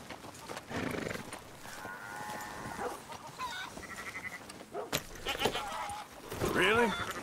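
Red Dead Redemption 2 horse sounds: hooves and snorts, then a loud whinny near the end, mixed with voices talking and ambient game sounds.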